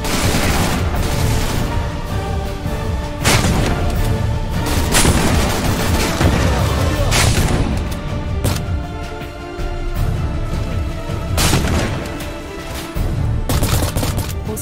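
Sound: gunfire from video game Beyond Enemy Lines 2

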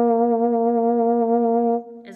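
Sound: euphonium played with vibrato

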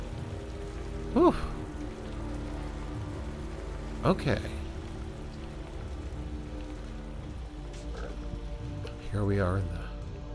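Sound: rain in video game Typoman

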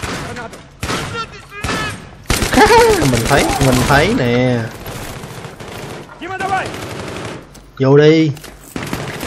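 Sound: machine gun fire in video game Battlefield 3

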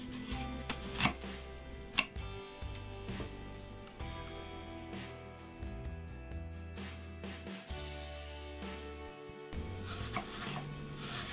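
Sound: knife slicing apples

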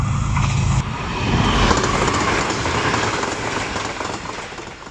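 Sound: Green Line Express train arriving at railway station

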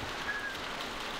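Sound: rain in The Walking Dead video game

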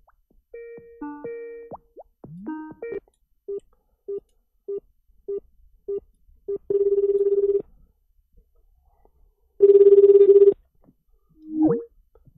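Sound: telephone ringing during an outgoing call

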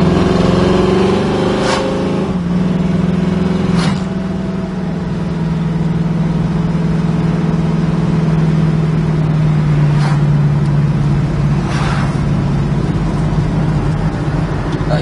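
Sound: 1968 Chevrolet Camaro driving

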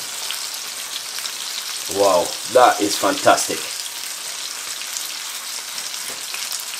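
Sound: fish frying in a pan

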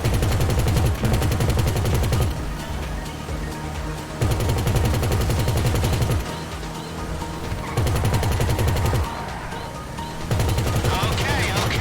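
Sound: gunfire in the video game GTA V

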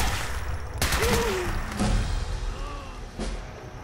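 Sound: gunfire in Fallout 4 Far Harbor video game

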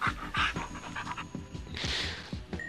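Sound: dog panting in video game Gantz

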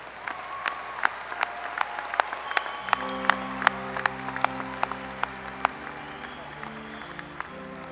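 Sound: audience applause for graduating design and merchandising students

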